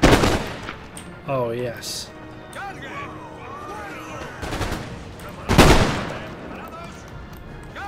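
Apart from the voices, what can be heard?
fusiliers' musket volley fire in video game Empire Total War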